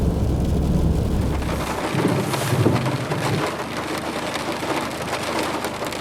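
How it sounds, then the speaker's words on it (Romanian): Rain mixed with small hail drums on the roof of a camper van, a dense close patter with a low rumble early on, loud and steady without talk. "Sperăm să nu se mărească grindina, că îi dă cu gheață măruntă."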